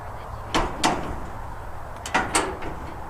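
The metal door of a 2800 series round baler is lowered, giving two pairs of sharp clanks about a second and a half apart over faint background hum.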